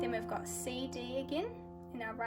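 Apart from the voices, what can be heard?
No everyday noise stands out behind the speech.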